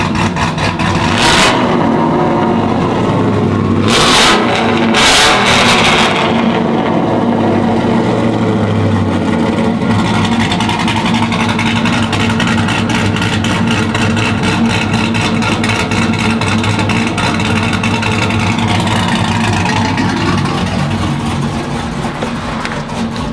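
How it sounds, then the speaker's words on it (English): A cammed pickup truck engine with dual exhaust rumbles and revs loudly with a lopey, choppy idle, a few sharp throttle blips at the start, then a steady rough rumble. "It sounds perfect. It sounds like it's supposed to sound. It's not too loud, but it's choppy."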